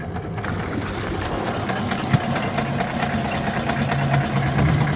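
An electric outboard motor drives a pond weed cutter boat across a fishery pond, giving a steady, continuous mechanical hum with faint water noise and no voices.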